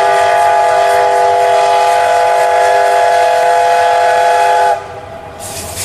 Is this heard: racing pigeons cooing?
no